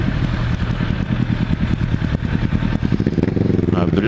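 Kawasaki ZX10R superbike running an open exhaust, heard close and loud as a throbbing, pulsing engine rumble that climbs into a rising rev near the end.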